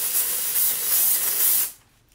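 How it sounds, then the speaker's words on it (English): A can sprays dry shampoo onto a wig in one steady hiss lasting under two seconds, close and fairly loud, before cutting off sharply into quiet. "if you spray a little dry shampoo on it, it'll kill that shine"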